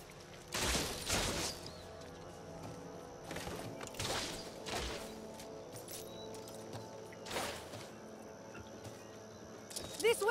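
Gunfire in Back 4 Blood, several sharp, fairly distant bursts of shots spaced a few seconds apart over a low ambient hum.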